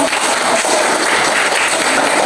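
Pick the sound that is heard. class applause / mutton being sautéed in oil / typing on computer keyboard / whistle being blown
class applause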